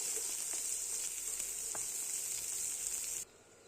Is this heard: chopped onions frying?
yes